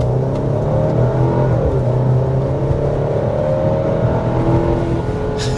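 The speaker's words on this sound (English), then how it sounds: "I think it sounds pretty refined even under hard acceleration" Alfa Romeo Stelvio Veloce with a 2-liter turbo engine under hard acceleration, giving a steady, refined low engine drone and whir with a gradually shifting pitch, fairly quiet and continuous throughout.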